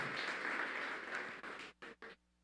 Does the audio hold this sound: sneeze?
no